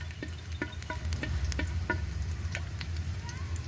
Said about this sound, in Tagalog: nagisa na kami ng bawang